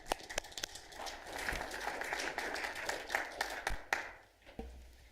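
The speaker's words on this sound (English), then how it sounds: "So if we could just a quick round of applause for 5 years for you guys." Quick applause at a planning commission meeting honoring commissioners' five years of service, a modest group clapping with distinct individual claps, loose and uneven, fading out toward the end.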